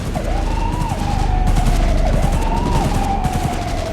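Rapid bursts of automatic gunfire in the game Cyberpunk 2077 crackle continuously while a police siren wails and swoops in the background, giving a loud, dense firefight.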